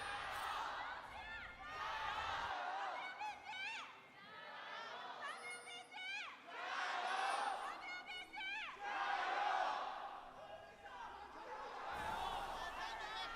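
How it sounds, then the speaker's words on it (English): Large esports arena crowd at an LPL Summer Split 2024 playoff match of League of Legends between WBG and BLG, roaring in swelling waves of shouting and cheering that rise and fall, with a commentator talking over it. "And the crowd descends into its madness after the initial shouts."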